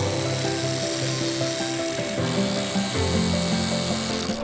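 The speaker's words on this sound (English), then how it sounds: "hopefully I can just grind that thing down" Power tool grinding down a big glob of weld on a Yamaha dirt bike engine part, a steady buzzing whine with pitch shifting as pressure changes, close and continuous without speech.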